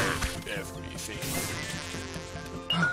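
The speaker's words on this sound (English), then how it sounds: "Get out of here, bees." Bees buzz in the A Bug's Life video game, a droning insect whine over game music and effects with a few thwacks and crashes, loud and continuous for a few seconds.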